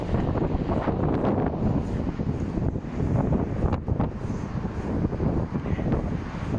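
Strong wind blows on a UK holiday road in late December, buffeting the microphone with a steady, loud rumble and roar that surges in gusts throughout.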